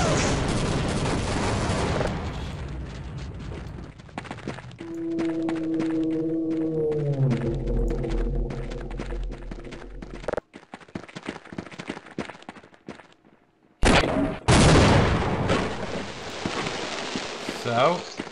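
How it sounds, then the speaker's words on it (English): A charged weapon in the video game Half-Life winds up with a rising, wavering electronic tone, then blasts and booms erupt loudly in bursts, with someone talking over parts of it. "Charging up the death cannon."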